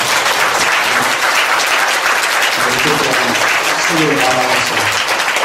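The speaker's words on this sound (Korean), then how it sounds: "영광의 박수 드립니다." Church congregation applauding steadily and loudly after a sermon, a dense continuous clapping that fills the space, with a voice speaking over it in the second half.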